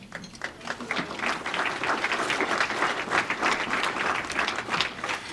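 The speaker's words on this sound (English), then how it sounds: "This is supposed to be wild applause." Guests at a Lions Club Evening for Sight fundraiser clap loudly in an uneven, surging round of applause lasting about five seconds.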